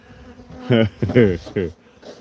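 Bees buzz in three short, loud bursts close by, with quiet pauses between them.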